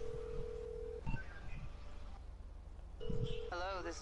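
Phone dialing in a video game: a steady tone, a short series of button beeps, then another tone and a warbling ring signal, with someone talking faintly underneath.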